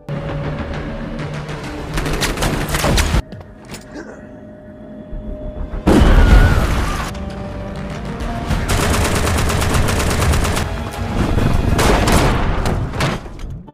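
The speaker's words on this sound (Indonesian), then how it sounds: "baku tembak pun tak terhindarkan" Shootout in the action film Coma (2019): long stretches of dense automatic gunfire and heavy booms, loud and continuous, broken by a brief quieter pause.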